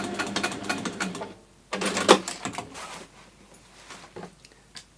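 Sewing machine stitching the handle into a waxed fabric bag, quick rattling bursts of stitches in two runs separated by a pause, close and moderately loud with small mechanical clicks afterward.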